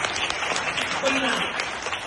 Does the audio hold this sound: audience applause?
yes